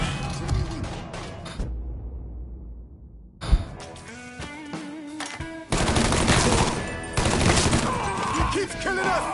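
Gunfire in Mafia 3 comes as loud bursts of automatic shots and single cracks, a short quiet gap, then heavier dense firing with gasps and sighs mixed in.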